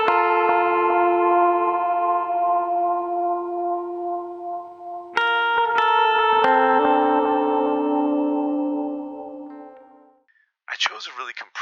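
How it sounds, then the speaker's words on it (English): Heavily compressed electric guitar picks crisp, twangy note progressions with long ringing sustain and echoing tails, loud and alone, then fades out before a brief burst of warbling effect at the end. "I improvised some simple note progressions on the guitar using just the compressor to get a crisp, twangy sound"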